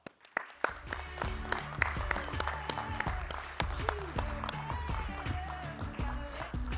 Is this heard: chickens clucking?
no